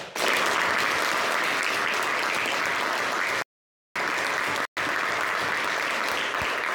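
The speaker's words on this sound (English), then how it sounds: "Let us give 5 to 10 seconds continuous round of applause." Young audience at a youth leadership meeting giving a continuous round of applause, loud and dense clapping that cuts out abruptly twice before resuming.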